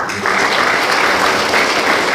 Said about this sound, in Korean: 박수 쳐주세요.